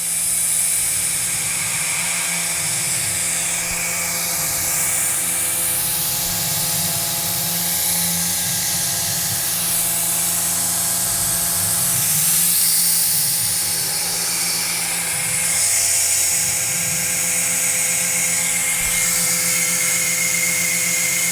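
A CNC mill cuts a fine chamfer edge break into aluminum soft jaws, a high whining spindle and cutter sound that rises and falls in sweeping passes over steady machine hum, loud and close, with no talking.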